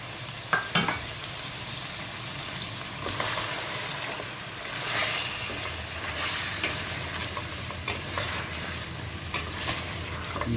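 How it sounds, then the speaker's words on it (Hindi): Chicken frying in a pan with black pepper and salt, a steady close sizzle with scraping stir strokes and a few sharp clinks throughout, no voices. "मिर्च, दो चम्मच नमक डाल के अच्छी तरह से भूनेंगे"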